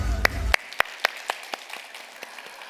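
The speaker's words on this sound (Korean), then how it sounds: "우리 박수 한번." Scattered claps ring out one by one at a church gathering, sparse and spaced apart, after a brief low rumble of voices, fading toward the end.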